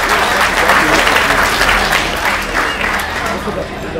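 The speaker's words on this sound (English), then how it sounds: "So a big round of applause, please, for Larry Schaub and his family here." Applause from a large audience at the Bucher Hydraulics 100th anniversary company celebration, loud and close, a dense steady wash of clapping that slowly fades toward the end.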